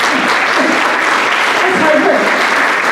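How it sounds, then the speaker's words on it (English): An audience at a spring pops concert claps for a school band's Division II Excellent Rating, with steady, fairly loud applause and a voice talking over it. "You can clap for that."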